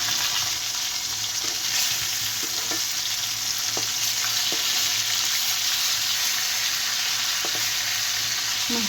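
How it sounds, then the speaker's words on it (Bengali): Pieces of mrigal fish frying in hot oil, a loud, continuous crackling sizzle throughout with occasional faint clicks of a utensil in the pan; no talking. "অন্য পাশ ভালো করে ভেজে নেব।"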